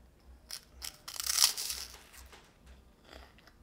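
A crisp bite into a crunchy vegan maple meringue cookie, with one sharp crackling crunch followed by a few softer crumbling chews, close and fairly quiet.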